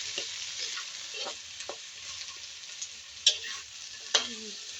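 Vegetables and ginger sauté in a pan with crab cooking, a soft steady sizzle under intermittent scrapes and stirs of a utensil, with two sharper clanks against the pan near the end.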